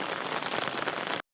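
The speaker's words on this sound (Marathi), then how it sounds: "पाऊस इलो." Steady rain patters onto a surface, a dense close hiss with scattered drops, then cuts off abruptly to silence near the end.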